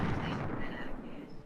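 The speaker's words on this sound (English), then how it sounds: "Essela goes into her room, and you just hear loud explosions." A played sound effect of loud explosions for a photon torpedo spell in a tabletop fantasy game, a deep booming rumble with rolling low blasts over about a second and a half.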